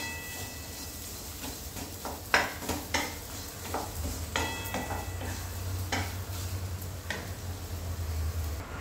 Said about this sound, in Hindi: इसमें तेल का इस्तेमाल बिल्कुल भी नहीं करेंगे, इसे चलाते हुए हम भूनेंगे